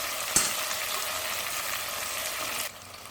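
Tomatoes sautéing in a pan for Karaikkudi-style mutton intestine curry, a soft, even sizzle heard up close with one sharp utensil tap near the start, cut off abruptly near the end.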